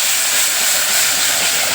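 Curry leaves drop into hot oil for a chicken curry, producing a loud, dense, hissing sizzle that stays constant and close throughout the short moment.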